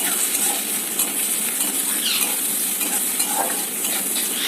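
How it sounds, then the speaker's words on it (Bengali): Onion and chopped green chili frying in a pan, a loud continuous close sizzle with scraping and stirring strokes of a utensil against the pan throughout, no voices. "লঙ্কাটা দিয়ে ভালো করে একটুখানি আবারও নাড়াচাড়া করে নিলাম"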